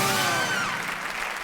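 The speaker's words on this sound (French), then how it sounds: "On applaudit fort Nathalie" Studio audience on a French TV game show gives a dense, loud round of applause with some cheering, continuing steadily through the brief moment.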